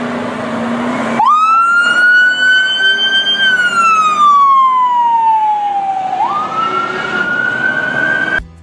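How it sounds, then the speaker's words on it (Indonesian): A fire truck siren wails loudly and up close, its pitch rising, holding, sliding down and climbing again over a rumbling engine. "ada mobil pemadam kebakaran"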